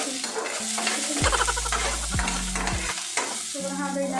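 Onion and garlic sauté in hot oil for adobong papaya with sardines, a steady sizzle broken by sharp metallic scrapes and clanks of a spatula stirring the pan, close and loud.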